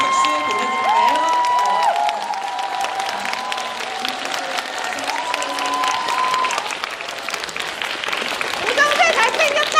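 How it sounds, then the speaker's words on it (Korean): A fan-event audience at a live talk for the film Swing Kids applauds steadily and loudly for the full stretch, a dense wash of clapping mixed with cheering and excited shouts from the crowd. "가시는 길까지 박수 보내드릴까요?"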